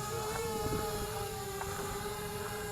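Small electric motors of an XK X450 VTOL RC airplane whine steadily while it hovers in to land on its pad outdoors, a continuous moderately loud drone with a sustained tonal pitch.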